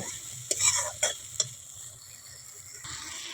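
Mustard spice paste for a katla fish curry sautés in a pan, a soft low sizzle marked by three quick scraping stirs early on before settling into a gentle continuous fry.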